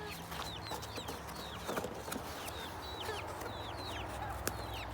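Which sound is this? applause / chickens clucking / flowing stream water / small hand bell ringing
chickens clucking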